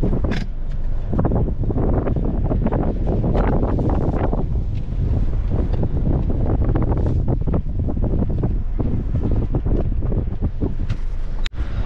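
Wind at Rutherford Beach in Louisiana buffets the microphone in continuous loud gusts and rumbles, with faint surf beneath and no talking.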